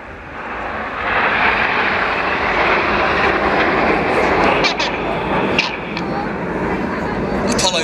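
Red Arrows jet aircraft performing a formation flying display at an air show in Ayr, a loud broad roar of jet engines building and sustained, heard from a distance with crowd and commentary noise underneath.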